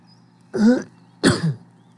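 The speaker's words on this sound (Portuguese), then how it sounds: "vocês podem observar que eu estou tossindo de vez em quando" Two short, close coughs about half a second apart in a quiet room, throaty and dry.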